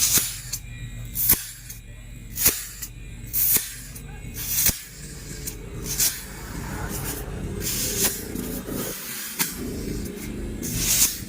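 A refrigerator compressor run for a pump test, with a sequence of sharp hissing spurts, then a steadier spraying hiss close up.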